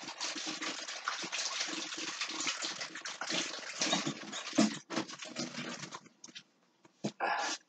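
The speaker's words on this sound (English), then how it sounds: "Wash my hands right quick." Hands being washed under a running tap in a home kitchen while making bread, with a steady gush of water broken by splashes and short pauses near the end.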